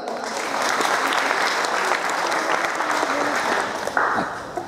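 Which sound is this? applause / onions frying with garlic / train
applause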